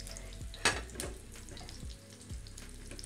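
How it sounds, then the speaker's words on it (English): Fish cakes frying in hot oil in a pan give a quiet crackling sizzle, with a few sharper pops and spatters over a soft steady background and no voices. "They go into the pan. Important to have the oil to be hot"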